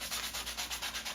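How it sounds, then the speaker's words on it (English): 80-grit sandpaper scrubs back and forth across a mask in quick, even strokes, about eight passes in just over a second. The rasping is close and steady, with no talk over it. "I'm just going to sand this all,"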